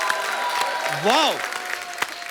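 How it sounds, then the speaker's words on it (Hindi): A television studio audience applauds for Govinda, a steady wash of clapping throughout the short moment while a voice rises in a brief exclamation over it. "एक बार जोरदार तालियां हो जाएं गोविंदा सर के लिए।"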